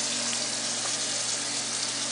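Cold water running from a kitchen tap into a cooking pot, a steady close splashing rush that holds even and unbroken throughout, with no talk over it.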